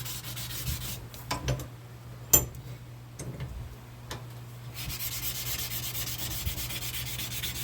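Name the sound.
block sander sanding a firearm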